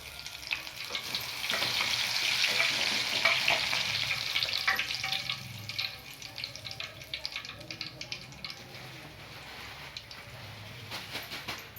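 Garlic frying in hot oil while making avalakki churumuri (a flattened-rice snack): a steady, loud sizzle that fades somewhat after a few seconds, with occasional stirring clicks and no talk.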